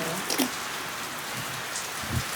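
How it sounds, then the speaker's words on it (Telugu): Rain falls steadily on an outdoor film shooting set, a continuous hiss of drops with a few brief louder splashes. No one speaks. "ఇప్పుడు మళ్ళీ అన్ఎక్స్పెక్టెడ్గా వర్షం స్టార్ట్ అయింది"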